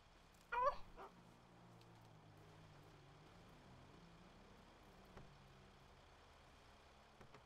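A puppy character in a video game roleplay gives a brief burst of whimpering yips and barks near the start, then falls quiet over a low engine-like rumble.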